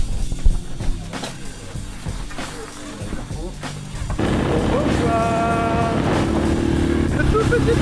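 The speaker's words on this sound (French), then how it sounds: "Petit tracteur." A small tractor passes on a road in Montenegro: a rough diesel chug grows from the distance and then holds as a loud, close, rattling engine drone, with breathy wind noise early on.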